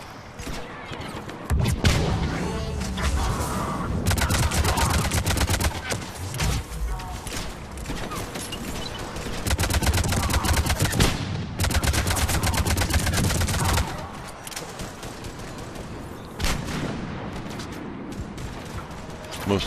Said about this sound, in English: Most of the time here you'll see me using the assault rifle.